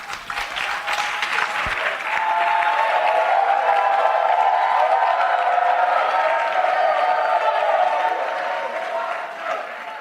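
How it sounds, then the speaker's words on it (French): A church congregation in Mampong, Ghana breaks into sustained loud applause mixed with cheering, a dense wash of clapping that swells and holds steady throughout. "Applaudissez."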